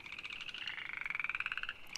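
A chorus of frogs croaks in rapid pulsing trills outdoors, close and continuous, with no voices.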